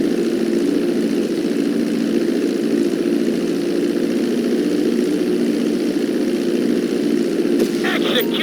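A plane's engines drone steadily as it slows on a landing approach in GTA 5, a continuous, loud, even hum with no breaks, with a few faint chirping tones near the end.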